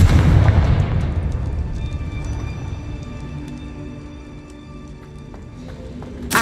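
A Confringo explosion spell in Hogwarts Legacy, a loud booming blast at the start that rumbles and slowly fades over several seconds, with a sharp impact near the end.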